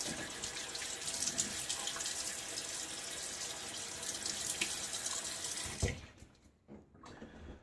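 Cold water runs steadily from a tap for several seconds, then stops abruptly, leaving a few faint splashes.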